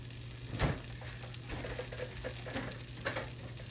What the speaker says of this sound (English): We're going to get our butter and put in the skillet here.